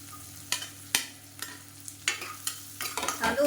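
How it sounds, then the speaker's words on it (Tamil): Crushed garlic, about three cloves, sautéed and stirred in a pan while cooking a kodo millet dish: irregular scraping stir strokes with a light sizzle underneath, close and moderately loud, no talking. "இப்போ இதில் பூண்டு வந்து நச்சு வச்சதை சேர்த்துக்கலாம்."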